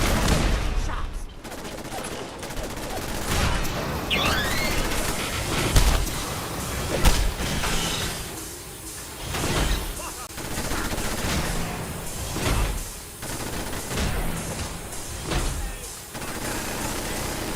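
Gunfire rings out around a castle perimeter, a sustained chaotic barrage of rapid shots and bursts with loud cracks and slams throughout, dense and continuous.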